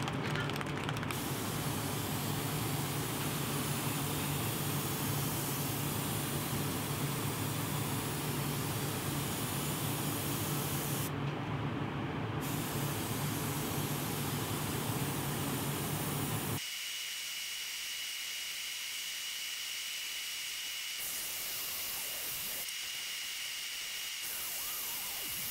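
An airbrush sprays Golden yellow base paint onto a large handmade musky fishing lure, producing a steady, close hiss that runs without pause and thins to a lighter hiss partway through.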